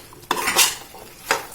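A spoon stirs and scrapes through chopped green chilies and masala frying in a pan for a chole dish. There are a few sharp metallic strokes over a faint, soft sizzle.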